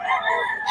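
A bull stag rooster crows, a single short, fairly close call with a rising then falling strained tone, with no talk over it.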